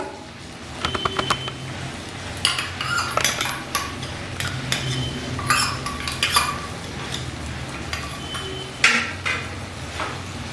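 Poppy seed paste, spices and prawns are stirred in a pan over a low flame, with a utensil scraping and clinking against the metal in irregular, fairly close strokes over a steady low background.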